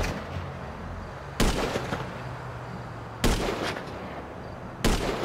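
Gunfire in the video game GTA V during a party scene, three loud single shots spaced a couple of seconds apart over a steady background hum.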